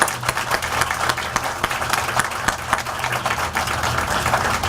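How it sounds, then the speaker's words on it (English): An outdoor crowd at a Memorial Day ceremony applauds the United States Marine Corps Band New Orleans, a steady patter of many hands with sharp individual claps standing out throughout. "let's give a special round of applause again to the United States Marine Corps Band New Orleans"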